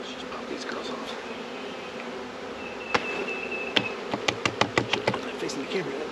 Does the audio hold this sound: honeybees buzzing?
yes